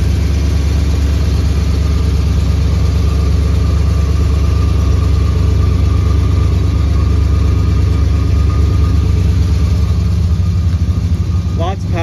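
A 1978 Ford F150 Custom pickup with all-new exhaust and big tires idles close by, a loud, steady low rumble throughout, with a voice talking over it.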